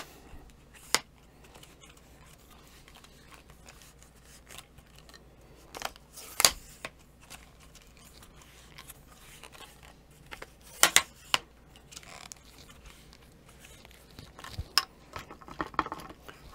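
A Manfrotto Befree Live carbon fibre tripod has its legs extended, giving scattered sharp clicks and snaps of leg locks and sliding sections, a few louder near clicks spread over a quiet background with no talk.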